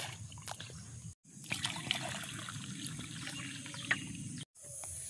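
Water drawn from a wetland into a tank trickles and splashes steadily outdoors, a continuous close gurgling flow that cuts out briefly twice.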